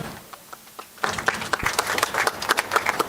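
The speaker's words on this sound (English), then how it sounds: "A better round of applause for Madam Honorable Esther Passaris" Audience applause at a panel discussion during a dialogue festival, starting quietly with a few scattered claps and then swelling after a second into fuller, lively clapping from the crowd.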